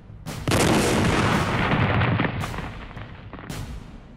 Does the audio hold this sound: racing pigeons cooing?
no